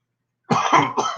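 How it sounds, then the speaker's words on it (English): A single person coughs close up after a short silence, giving two or three harsh, throaty bursts in quick succession. "Pardon my cough."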